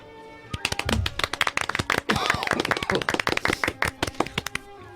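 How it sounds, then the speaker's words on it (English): A small group claps for a pile of books during a casual stream, a quick, dense burst of close hand claps lasting several seconds with a brief voice near the start. "We did a very sophisticated clap for that because these are books"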